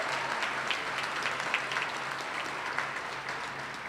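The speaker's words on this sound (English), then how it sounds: "give them a round of applause" A commencement ceremony audience in Albany applauds steadily, a dense even wash of clapping from a large crowd that holds at a constant level throughout.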